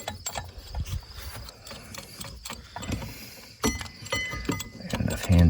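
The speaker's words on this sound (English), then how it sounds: "So you wind that down, and then you got to make sure the two notches seat into the piston" A brake caliper piston tool being wound on a Mk4 Volkswagen Jetta TDI, giving a steady run of small ratcheting clicks and metallic clinks close up, with a few louder knocks toward the end.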